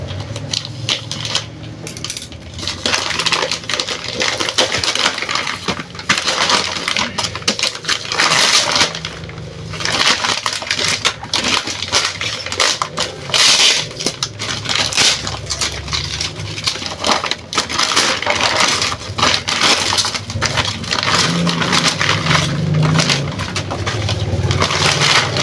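Plastic packaging around a new tire being opened: steady crinkling, rustling and crunching handled close by, continuous and fairly loud for the whole stretch with no talk.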